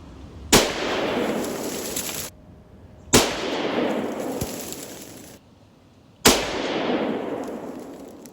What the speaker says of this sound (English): So here we go, 3 shots.